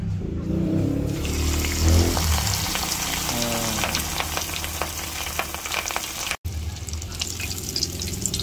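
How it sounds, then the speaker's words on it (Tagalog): Chicken pieces, already boiled, fry in hot oil with a dense, continuous crackling sizzle close up, holding steady for several seconds, with a low rumble underneath at the start. "Piprito ako ng kagigil fried chicken."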